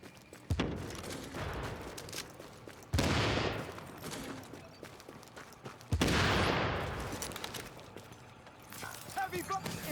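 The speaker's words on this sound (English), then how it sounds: "Heavy fire." Heavy gunfire in The Division comes in three sharp, loud bursts a few seconds apart, each trailing into dense rattling shots, with a player's voice talking over it.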